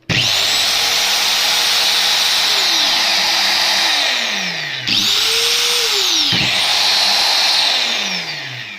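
A loud angle grinder whines steadily, cuts out briefly, then spins back up to a high-pitched scream that holds to the end.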